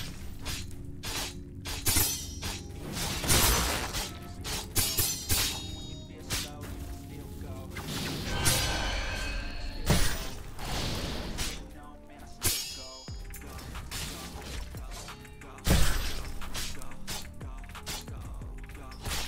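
Shatter Spear ice spell in a video game, with repeated crisp glassy shattering and cracking bursts over a busy layer of combat effects, loud and close throughout.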